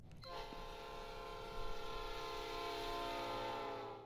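Train in the video game Pokémon Reborn sounding a long sustained whistle chord as it departs, steady and loud over a low rumbling engine for several seconds, with no talk.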